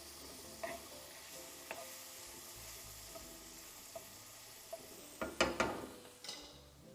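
Garlic frying in a pan on a home stove, a faint steady sizzle broken by a few brief clicks and stirring knocks, with a louder burst of sizzling and scraping near the end.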